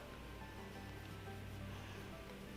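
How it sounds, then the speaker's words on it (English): Running water soaks a face cloth at a sink during a nighttime skincare routine, a steady, continuous rush that stays close and even, with no talking. "So I'll just get this cloth wet and just wash over my face with it."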